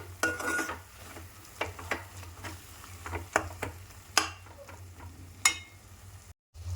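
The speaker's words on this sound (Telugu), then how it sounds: "కలిపేసుకొని కొంచెం ఆయిల్ పైకి తేలే వరకు ఫ్రై చేసుకోవాలండి" Masala stirs and fries in oil for a brinjal curry, with a dozen or so sharp scraping clinks of a utensil against the pan over a faint sizzle, near and fairly quiet.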